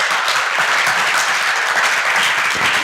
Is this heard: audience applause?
yes